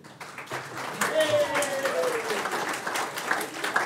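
An audience applauding after a talk on clinical audit and quality improvement, a building wash of clapping that rises and holds steady, with a voice speaking over it.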